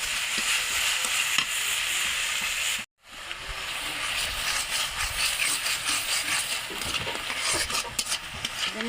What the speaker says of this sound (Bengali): মশলাটা ভালো করে ভাজা ভাজা করে